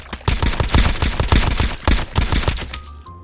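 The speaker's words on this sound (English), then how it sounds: "So if you press it a lot of times, you actually fire like an SMG." Rapid-fire elemental poison gun in Escape from Duckov, shooting like an SMG: a fast, steady stream of close, loud shots for about three seconds, ending in a brief tail.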